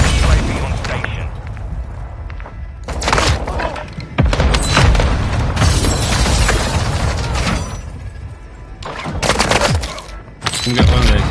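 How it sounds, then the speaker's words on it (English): Mortar strike explosions and rapid gunfire from a Warzone 2 match boom and crackle loudly in dense, sustained bursts, with heavy impacts and overlapping shots that surge and fade across the scene. "Mortar strike on the way."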